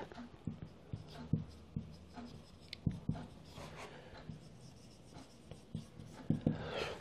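Marker squeaking and tapping on a board during a genetics lesson, a string of short strokes and taps at an irregular pace, close and fairly quiet, with no speech.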